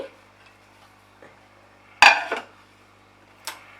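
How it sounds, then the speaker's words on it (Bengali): A pressure cooker holding a baked chicken keema cake is opened with one sharp metallic clank of lid and pot. A fainter clink follows, in an otherwise quiet kitchen. "প্রেসার কুকারটাকে খুলছি।"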